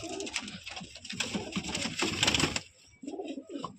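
Pigeons in a coop coo and scuffle nearby, with flurries of movement and wing noise and a short lull near the end before the cooing returns.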